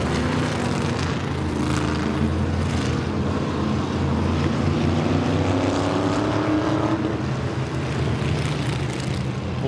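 Old flathead-engine race cars on a super short track, a steady loud engine drone with a rising pitch sweep as a car passes, no talking.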